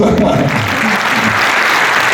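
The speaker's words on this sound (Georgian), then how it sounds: "მოდი გადავუხადოთ ჩვენ არაჩვეულებრივ წამყვანს და ტაში მას" Brief, dense clapping from a concert audience applauding the host, mixed with a voice speaking over it.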